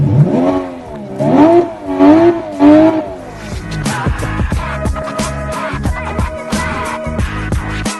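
A Porsche 919 race car engine revs in several rising and falling bursts, then settles into a loud, harsh, rapidly pulsing drone close by.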